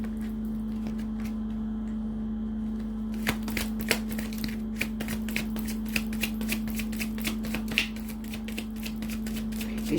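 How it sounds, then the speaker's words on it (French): Tarot cards are dropped and handled, giving a run of soft, irregular flicks and light slaps close by over a steady electrical hum, with no talking. "Je laisse tomber les cartes avant."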